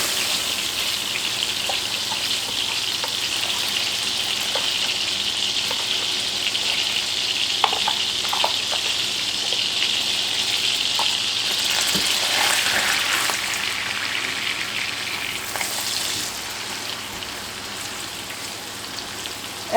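Finely chopped half onion and two garlic scapes fry in melted butter in a skillet, giving a loud, continuous crackling sizzle that swells and eases with occasional utensil clicks, with no talking.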